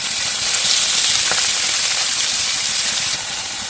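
Onions with cumin seeds and green chillies frying in coconut oil for a flat bean curry, giving a steady, close, loud sizzle that holds constant throughout with no talking.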